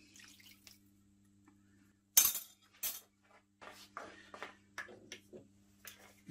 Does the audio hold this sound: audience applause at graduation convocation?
no